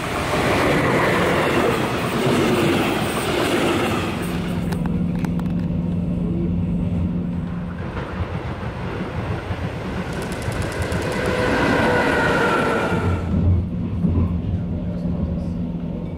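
Regional train RE 19 on the Sonneberg–Coburg–Bamberg line rolling on the rails near Rödental: a loud, continuous rumble with wheel clatter and a brief easing midway, close and sustained throughout.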